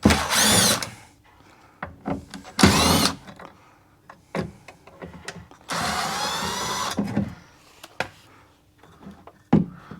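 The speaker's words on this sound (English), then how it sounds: "There's 3 screws there, we'll pull them out." A power drill backs out the three screws holding the factory door speaker of a Holden VX Calais, sounding in several close, loud whirring bursts of a second or so, separated by quieter clicks and handling noises.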